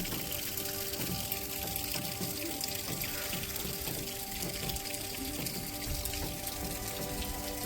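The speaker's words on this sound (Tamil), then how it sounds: "சர்ப்ரைஸாக இன்றைக்கி மழை கோத்தகிரியில், இந்த ஸ்டைலில் நல்ல மழை." Heavy rain falls in the Kotagiri hills, a dense, continuous hiss of pattering drops with steady splashes, loud and unbroken throughout with no voices.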